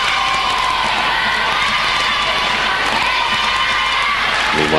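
A Spanish crowd at a European rhythmic gymnastics team competition in Granada cheers, shouts and whoops loudly and continuously, a dense arena roar with high excited voices throughout.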